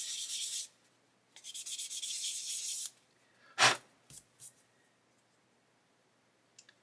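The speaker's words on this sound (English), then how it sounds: "I'm going to continue sanding it flat until I get rid of that step" Sanding a part of a Pocher 1/8 Porsche 917 model flat: two close, rasping rubbing strokes, one short and one longer, then a few sharp clicks and taps before near silence.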